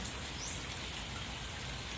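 Heavy rain pours steadily before an approaching typhoon, a dense, even hiss of drops striking surfaces around hanging plants, close and constant with no voices.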